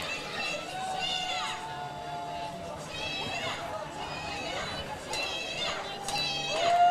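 A wrestling crowd at a Catalyst Wrestling event chatters and jeers in a steady, busy murmur of many voices, with a commentator talking over the top.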